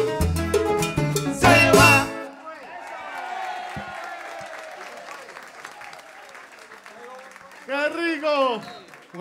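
An audience at a lively music gathering breaks into applause and cheering for the musicians right after a song ends, loud and close at first, then a voice speaks over thinning claps, with a brief renewed burst near the end.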